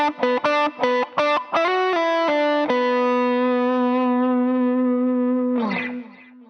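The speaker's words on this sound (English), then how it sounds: "if we turn it on, you now get the middle and the neck wired in series" Fender Elite Stratocaster electric guitar played with the middle and neck pickups wired in series: a quick run of picked notes and short chords, then a chord left to ring and sustain for several seconds before a final strum, with no talking.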